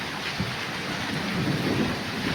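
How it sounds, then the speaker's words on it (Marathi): Heavy rain with thunder on 31 May in Beed district, Maharashtra, makes a dense, continuous hiss of downpour with low, rolling rumbles underneath, heard loud and close with no talking. "हा पाऊस चालू आहे."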